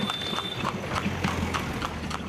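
Horse hooves clip-clop steadily as a horse-drawn tamtam cart moves along a road in Bihar, a continuous rhythmic clatter set against busy street noise.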